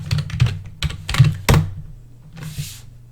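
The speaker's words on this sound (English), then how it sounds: "If we type in our credentials" Credentials are typed on a computer keyboard in a short burst of close, crisp key presses, with a few heavier thunks, then a pause and a faint softer rustle.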